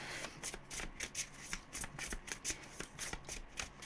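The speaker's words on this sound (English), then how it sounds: "say an overhand shuffle on that one" An overhand shuffle of a tarot deck makes quick, rhythmic riffling flutters repeating every fraction of a second, close and fairly soft, with no voices.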